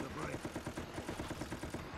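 Rapid automatic gunfire in the shooter game Resident Evil: Operation Raccoon City, a fast steady stream of shots roughly twenty per second, held back under a player's voice.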